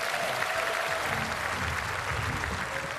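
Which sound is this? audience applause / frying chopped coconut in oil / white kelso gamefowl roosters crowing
audience applause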